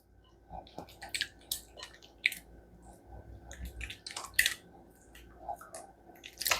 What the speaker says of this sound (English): our melted butter, and we're going to stir that up.